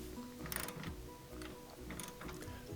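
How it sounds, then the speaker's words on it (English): A ratchet wrench tightens a 3/4-inch nut onto the bottom of a support strut on a Kenmore washer, giving a few quick bursts of clicking with short pauses between them, close by and fairly quiet. "So I'm going to put this 3/4-inch nut on with a ratchet and get it on really tight"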